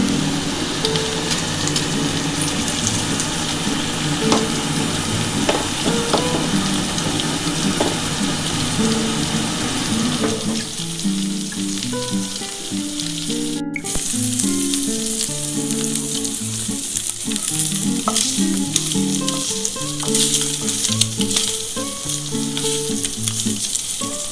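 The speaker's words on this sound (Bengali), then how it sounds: "আমি একটা একটা করে ডিম ভেজে নিচ্ছি" Eggs frying one at a time in hot oil, with a dense, loud crackling sizzle and rapid spatters throughout, plus spatula clinks and scrapes against the pan in the second half.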